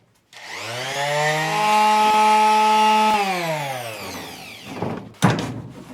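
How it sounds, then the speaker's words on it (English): An electric sander starts up close and runs with a steady, tonal motor whine for about three seconds while sanding a bathroom vanity, then winds down, followed by a few bumps and rubbing knocks. "turn it on, and begin sanding"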